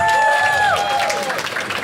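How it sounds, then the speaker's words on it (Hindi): An audience at a stand-up comedy show claps steadily throughout, with a sharp whistle gliding downward near the start. "ताली बजाओ सब लोग."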